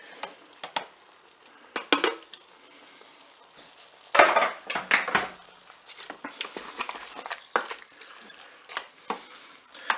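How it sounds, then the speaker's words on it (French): Peeled tomatoes from a can are tipped into a Cookeo multicooker pot with lentils, giving irregular close scraping, plopping and clattering bursts, one heavier dump midway, followed by continued stirring and clinks. "Je vais ajouter la boîte de tomates pelées."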